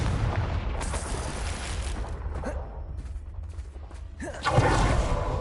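Fire spell explosions from Hogwarts Legacy, several booming bursts and crashes at roughly one-second spacing, loud and close, with a heavier blast near the end.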